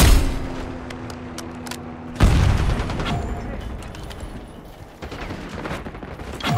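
Gunfire in the video game Call of Duty: Black Ops 6, with sharp shots and a heavy burst of blasts near the middle over constant battle noise and brief radio-style voices.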